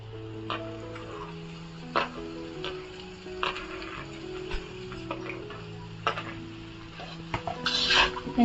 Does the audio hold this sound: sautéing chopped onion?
yes